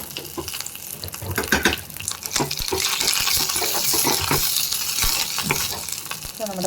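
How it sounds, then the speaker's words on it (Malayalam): Mustard seeds and dried red chillies splutter in hot oil for a jackfruit seed curry tempering, close crackling pops that swell into a dense, steady sizzle with scattered sharp spits. "ഇതിലേക്ക് നമുക്ക് കടുക് ആഡ് ചെയ്ത് കൊടുക്കാം. വറ്റൽമുളക്."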